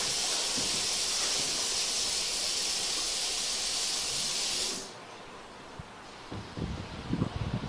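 Running water sprays with a loud, steady hiss that cuts off abruptly partway through, leaving quieter rustling and a few scattered knocks.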